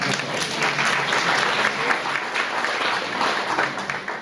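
A congregation applauds in a church service with sustained, dense clapping that is fairly loud and even throughout.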